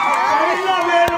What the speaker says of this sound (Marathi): चढाईमध्ये टाळ्या वाजतात अर्धा ओरडा वाजतात